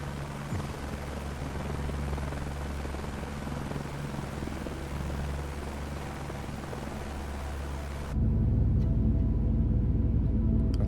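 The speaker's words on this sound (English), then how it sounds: "The helicopter won't go any higher." A video-game helicopter struggling to climb higher, a constant whirring rotor and engine drone that turns deeper and louder for the last few seconds, with no voices.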